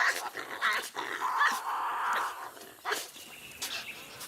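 Tasmanian devils fighting in the wild, harsh growls and rasping snarls rising and falling over several seconds with sharp bursts, close and fairly loud.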